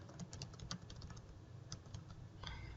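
Light tapping on a computer keyboard while entering a system name in Toro Sentinel irrigation software, a quick run of soft clicks close by and faint, with no talk.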